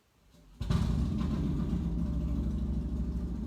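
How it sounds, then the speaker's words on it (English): A motorcycle engine rumbles nearby, starting up abruptly after a quiet moment and then holding a steady, deep, throbbing idle that stays loud and continuous, with no talk over it. "I don't know if you can hear the motorcycle engine,"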